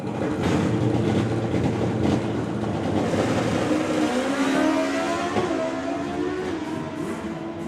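A pro stock drag racing motorcycle makes a full-throttle run at a drag strip, a loud continuous engine roar with rising pitch, heard from a distance.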